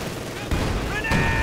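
Field gun barrage in the video game Company of Heroes 2, two heavy booming shots about half a second apart over a constant roar of battle noise.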